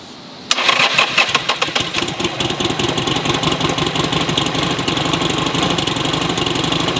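A Buell motorcycle engine cranking over and catching, kicking in abruptly after a brief quiet moment, then running with a rough, pulsing beat that settles into a steady idle.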